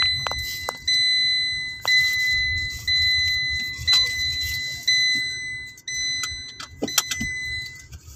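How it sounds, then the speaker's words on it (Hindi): Inside a Tata Nexon top model automatic, a chime repeats about once per second as a seat belt warning, with a steady pitch over low road rumble and the hum of the moving car. Nobody talks. "मैंने सीट बेल्ट नहीं लगाई थी इसलिए बीप की आवाज़ आ रही थी।"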